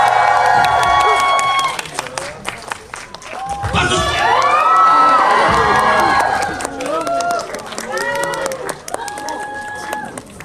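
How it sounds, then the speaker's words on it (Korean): A large crowd at a film stage greeting cheers, whoops and shouts loudly, with excited children's voices rising and falling across the whole stretch. "여러분의 큰 함성과 박수"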